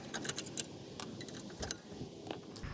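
Metal-on-metal clinks and light rattling scrapes as a flathead screwdriver or small pry bar pries the rear brake pads out of the caliper on a 2018-2023 Subaru Crosstrek, close and irregular.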